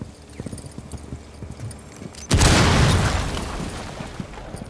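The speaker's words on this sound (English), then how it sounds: "I heard explosions." Light clattering steps, then a sudden loud boom from a set charge in Rainbow Six Siege that bursts out and rumbles away over a couple of seconds.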